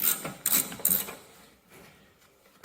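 Ratchet wrench clicks in three quick bursts, then fainter clicking, as rear fender bolts come off a Cub Cadet diesel tractor during restoration, close and alone.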